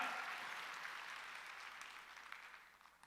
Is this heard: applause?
yes